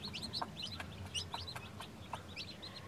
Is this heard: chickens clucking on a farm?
yes